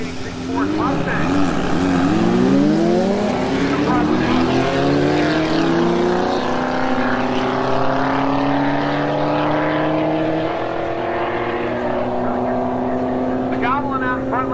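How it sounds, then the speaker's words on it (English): Race cars, a DF Goblin kit car against a 1986 Ford Mustang, rev and launch at a drag strip, engines rising in pitch and droning loudly together, with an announcer talking over them. "Meske will stage up this time against the 1986 Ford Mustang."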